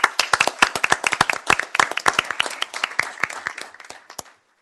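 A round of clapping at a city council meeting, a few dozen hands striking in sharp, dense, uneven claps for about four seconds before cutting off abruptly, fairly close and loud, with no talk over it.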